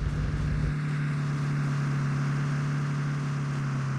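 A vehicle engine in PUBG Mobile drones steadily and close, a continuous low mechanical hum that holds level throughout without talk.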